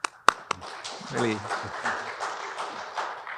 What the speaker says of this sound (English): I'd like you to give them a little applause